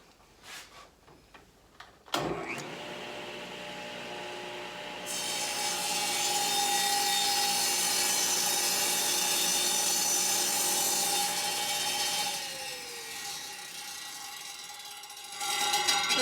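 Oak boards are fed through a worktable sawmill to cut a taper; a motor spins up with a sharp start into a sustained, high whining cut, then winds down, with rubbing and handling noises at each end.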